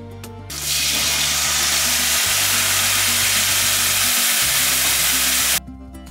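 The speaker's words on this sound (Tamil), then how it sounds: "இந்த புளியும் இதில் சேர்த்துடலாம்." Dissolved tamarind water is poured into a hot cooking pot for a kuzhambu, giving a loud, steady hissing sizzle for several seconds that cuts off abruptly.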